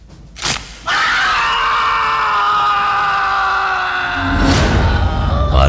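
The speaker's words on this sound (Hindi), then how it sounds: "उसके पैर की हड्डी टूटने की आवाज और उसके साथ आरिफ की एक भयानक चीख गूंज पड़ी उस पूरे घर में।" A long, loud scream of pain rings through a house as a man's leg bone breaks in a dramatised story, sustained for several seconds after a sharp crack-like onset, with a heavy rumbling hit near the end.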